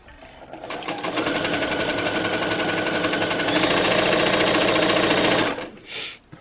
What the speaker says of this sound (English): And I'm just sewing my 1/4-inch seam.